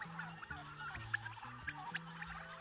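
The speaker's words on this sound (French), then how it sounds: "les milliers de pintades, de poulets et de dindes n'hésitent d'ailleurs pas à se faire entendre" Thousands of free-range guinea fowl, chickens and turkeys call together, a dense chorus of clucks and squawks with repeated gobbling phrases close by.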